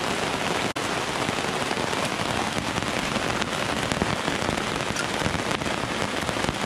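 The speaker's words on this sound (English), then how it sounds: "it's nice to watch the rain." Steady heavy rain pours outside a screened porch at an off-grid homestead, a dense even hiss with pattering drops, loud and unbroken apart from one brief dropout.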